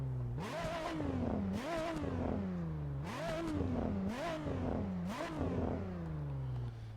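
A car engine in an Assetto Corsa mod revs hard several times in succession, each blip rising sharply and falling back to a steady idle, loud and close with no voices.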